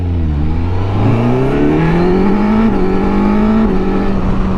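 A 2022 Suzuki GSX-S1000GT+ sport-touring motorcycle accelerating hard on the road, its engine note loud and close, climbing steadily in pitch through the gears with a brief shift dip, no talking.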